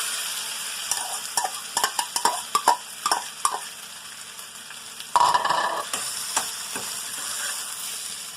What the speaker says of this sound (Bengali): এখন এতে এই আলুটা আমি দিয়ে দিচ্ছি